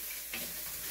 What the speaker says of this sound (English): I'm frying it for just for 5 minutes